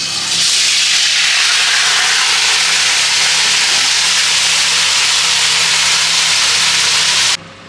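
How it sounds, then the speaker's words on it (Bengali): Chicken poured into hot oil for Kolkata-style biryani erupts into a loud, steady hissing sizzle that holds for several seconds and then cuts off abruptly. "এখন চিকেনটা এর মধ্যে ঢেলে দিব"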